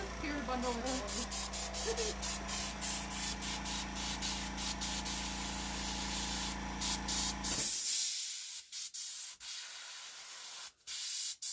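An airbrush sprays paint in short repeated hissing bursts while a skull is painted onto a black bodysuit, first beneath a steady low hum and then alone in quieter surroundings.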